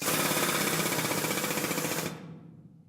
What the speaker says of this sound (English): Drilling into the rock by hand and with heavy machinery.